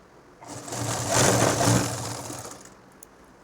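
A sewing machine runs a short burst while stitching a nightie at home, whirring up loud and close for about two seconds, then slowing and fading, with a small click at the end.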